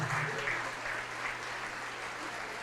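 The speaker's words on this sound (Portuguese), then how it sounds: "Vamos aplaudir mais" A church congregation claps together in sustained, dense applause, steady and fairly loud throughout with no voices standing out.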